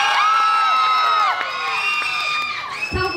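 Outdoor concert crowd at the Keelung Qidu fireworks carnival cheering a singer, with loud, sustained high whoops and whistle-like shouts sliding in pitch over a dense background of voices.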